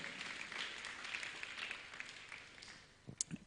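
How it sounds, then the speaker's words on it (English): Applause rises for Hussein Rajab, a scholarship recipient headed to Kitui High, at an education scholarship ceremony; steady crowd clapping fills nearly three seconds, then fades into a few sharp close knocks and handling bumps at the end. "Wape makofi yake tafadhali."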